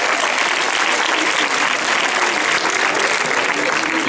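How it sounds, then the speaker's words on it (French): Audience at a Paris event for the French voice cast of The Lion King applauding loudly and steadily, dense clapping filling the whole stretch without a break. "On peut l'applaudir bien fort."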